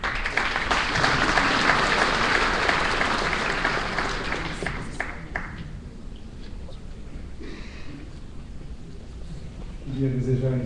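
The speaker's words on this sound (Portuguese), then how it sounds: "Vamos aplaudir-o aí direto." Audience at a coffee conference applauds, a dense, steady wash of clapping that thins out and fades over several seconds before a voice begins speaking at the end.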